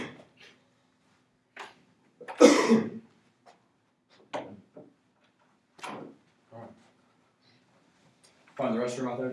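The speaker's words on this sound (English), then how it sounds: "I got this cough." A person coughs and clears their throat in a quiet room, with several separate short bursts and one louder cough, followed at the end by a brief stretch of talking.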